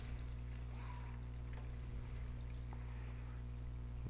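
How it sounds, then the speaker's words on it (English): Water pours into a bucket in a quiet outdoor setting, a soft, steady trickle under a low background hum, faint and continuous. "You can pour it right on top of there"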